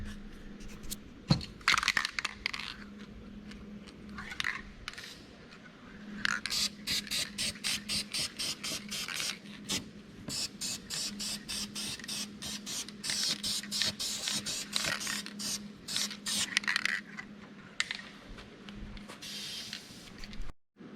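Bursts of spray from an aerosol can lay primer onto a Peterbilt 359 truck, coming in rapid repeated hisses with short pauses between passes, close and fairly quiet.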